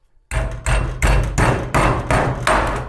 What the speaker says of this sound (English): Crank it down, hammer it.